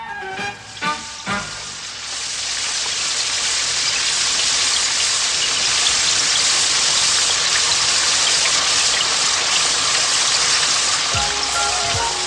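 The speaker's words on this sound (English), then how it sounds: "I think it's going to rain." Cartoon rain sound effect: a steady, loud hiss of falling rain that swells in after a few brief tones and holds evenly to the end.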